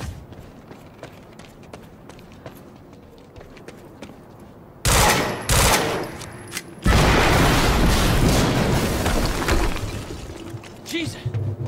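Gunfire and explosions from the video game Quantum Break: after a quieter stretch of faint clatter, loud booming blasts and bursts of shots break out, followed by a sustained roar of fire and debris.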